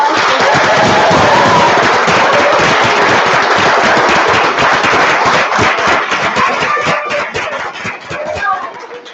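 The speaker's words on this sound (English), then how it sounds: "let's give this cast another round of applause" Loud, dense applause from a large audience for the cast after a performance of Hamlet, sustained clapping with some cheering voices mixed in, thinning out slightly toward the end.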